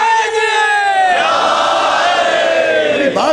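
A crowd at a majlis loudly chanting religious slogans in unison, a sustained mass of voices that rises together, then breaks into a short second shout near the end.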